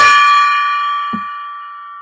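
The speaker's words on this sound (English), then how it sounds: "I love the gong" A golden gong is struck once, ringing loud and close with a bright metallic shimmer that decays slowly, and a faint tap sounds midway through the ring.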